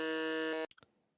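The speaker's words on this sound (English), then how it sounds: "buzzer!" A game-show style buzzer on a quiz game blares once as a loud, steady electronic tone for over half a second, then cuts off abruptly, followed by a few faint clicks.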